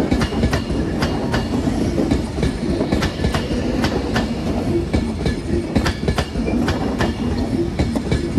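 An Avanti West Coast train runs from London Euston to Manchester Piccadilly, passing through Crewe station. It rumbles loudly and close by, its wheels clacking in a steady rhythm over the rails throughout.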